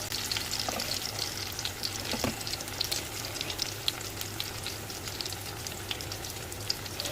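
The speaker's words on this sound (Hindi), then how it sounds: "ये देखें हमारे हल्के हल्के से ब्राउन हो रहे हैं चपली कबाब।" Chapli kababs made with potato sizzle steadily in oil in a frying pan, a dense continuous crackle with small pops, close and moderately loud, with no talking.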